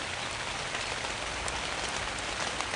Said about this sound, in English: I can't escape the rain!